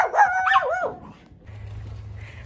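A miniature poodle yips and barks in a quick, high-pitched burst in Treviso, Italy, then falls quiet over a low background hum.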